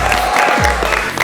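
A studio audience at a talk show applauds the entrance of actress Sana Nawaz with a dense, steady wash of clapping and a few low crowd sounds mixed in.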